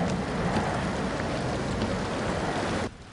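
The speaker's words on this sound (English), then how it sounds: "They can't get through the storm, sir." Heavy rain pours down steadily through a storm, a dense, even hiss of falling water that holds loud for about three seconds before abruptly cutting off.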